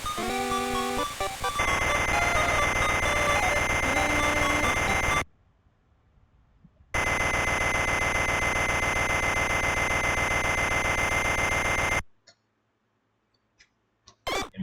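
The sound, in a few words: alarm clock ringing in the video game Wario Land 2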